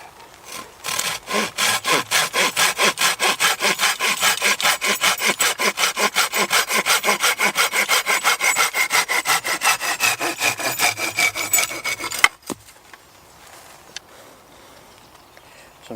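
A bushcraft chair's excess wood is sawn off outdoors at a day camp, about a dozen seconds of steady, fast back-and-forth rasping strokes, close and loud, then stopping abruptly with a clunk and near quiet.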